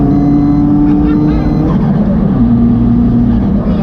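Loud, deep exhaust rumble from a 440bhp Subaru STI Type UK fitted with a speaker pipe, steady and close throughout with a shifting tone, while people talk over it.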